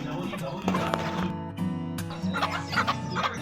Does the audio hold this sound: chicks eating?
yes